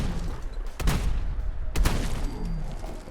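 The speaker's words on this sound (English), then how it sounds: "Let's see how we do with the Gauss barrel shooting out slugs." A handmade shotgun with a Gauss barrel fires slugs in the Fallout 4 video game, two loud, sharp blasts about a second apart over steady rumbling background noise.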